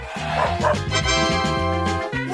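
A dog barks and yips repeatedly in quick, uneven bursts, loud and close, with a whining edge between barks and little other sound.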